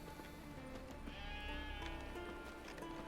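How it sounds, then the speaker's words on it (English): Sheep bleat in Witcher 3, a single wavering bleat rising over a quiet game background near the middle, fairly faint and without any talk. "How do you call a sheep? Here, sheepy sheepy? Hey, sheep, come here."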